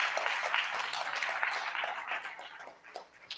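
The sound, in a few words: audience applause at ribbon cutting ceremony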